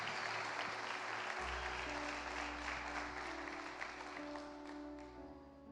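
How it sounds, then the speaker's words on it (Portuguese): Congregation at a church conference applauds steadily throughout, a dense wash of clapping with a sustained low keyboard or organ tone underneath, slowly fading toward the end. "Dá um aplauso aí pela Maria, queridos."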